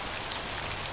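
Rain falling during a bicycle ride, a dense, even hiss of drops on surfaces that carries on steadily and loudly for the brief moment, with nobody speaking.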